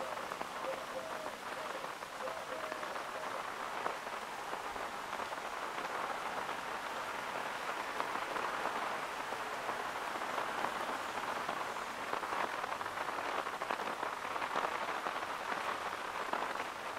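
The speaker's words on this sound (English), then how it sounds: "While the rain gently falls." Steady, gentle rainfall at the Ypres WW1 battlegrounds in Flanders, with a soft, even hiss and scattered droplet taps, continuous and moderately quiet throughout.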